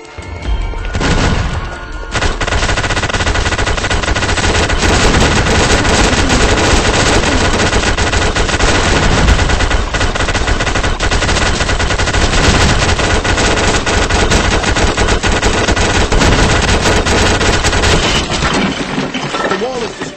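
In a Roblox game, a weak wall is smashed down with a long, loud barrage of rapid crashing and breaking impacts that runs almost continuously for about twenty seconds.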